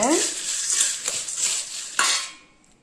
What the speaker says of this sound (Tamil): ஒரு கரண்டி வச்சு நல்லா எல்லா பக்கமும் உப்பு மிளகு மிளகா எல்லா காரமெல்லாம் போகிற அளவுக்கு எல்லாம் கலக்கி விட்டுக்கோங்க